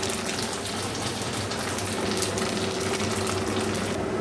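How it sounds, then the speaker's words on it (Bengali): Water is poured over cashew paste with ginger and green chilli in a hot pan, producing a loud, steady hissing sizzle that holds constant throughout. "এবার এই কাজু বাদাম বাটাটা দিয়ে জল দিয়ে দেবো"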